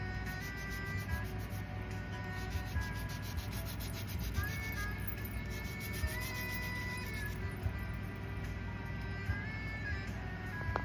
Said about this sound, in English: Take some sandpaper and rough it up.